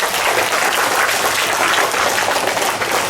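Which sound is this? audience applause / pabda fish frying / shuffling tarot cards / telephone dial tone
audience applause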